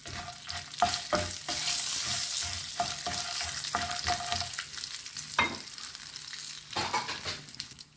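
Curry leaves and peanuts crackle in hot oil in a pan for kovil puliyodharai, under a steady loud sizzle, while a spoon scrapes and stirs with repeated close clinks and strokes.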